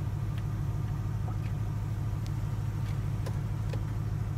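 A pickup truck idles while it warms up before a deer hunt, a steady low rumble that fills the whole clip, heard close with a few faint ticks above it and no talk.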